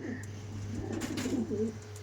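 Pigeons of the Andhra breed coo softly inside a loft, a low murmuring call rising near the end over a constant background hum.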